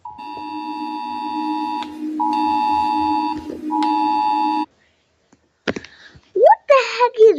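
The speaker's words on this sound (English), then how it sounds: "It sounds like the emergency alarms in the games, in the games or the cartoons and stuff." An emergency alert system alarm tone plays as repeated long, steady electronic two-tone beeps in three bursts, then cuts out, followed by a few brief squeaky voice-like sounds.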